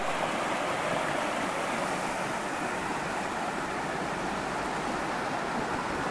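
A small stream in the Ardennes cascades in places, giving a continuous, broad rushing wash of water, close and even in loudness, with no voices.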